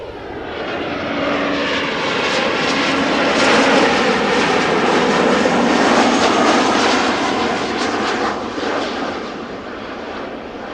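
An airliner lands at Amsterdam Schiphol Airport, its engines giving a loud, sustained roar that swells, peaks midway and then eases off, heard from nearby with no talking.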